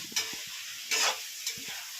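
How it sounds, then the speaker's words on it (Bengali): Capsicum pieces fry in a pan for chilli chicken, giving a steady close sizzle broken by three louder bursts of stirring and spatula scraping. "এই যে ক্যাপসিকাম এগুলো ভাজা হচ্ছে"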